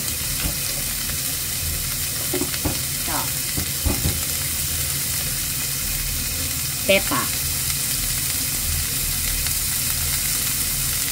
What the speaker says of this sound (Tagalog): Medyo lutuin lang natin ng konti ang mga gulay.